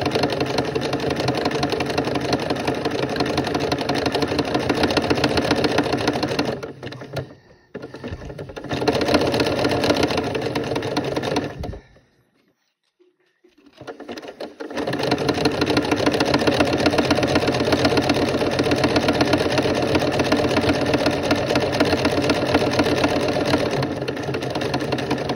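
Sewing machine stitching coiled rope into a teacup, running in long steady bursts with a brief pause and a silent stop in the middle, close and loud with no talking.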